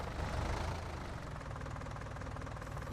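Steady mid-pitched drone of a tractor engine in Farming Simulator 19, running at a constant throttle with a faint knocking texture, fairly quiet and unbroken, with no talk.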